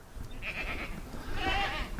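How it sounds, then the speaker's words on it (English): Sheep in an outdoor pen under a trampoline bleating twice, close and fairly loud, with wavering calls over a low background rumble. "you can see the sheep are still out in their pen under this trampoline"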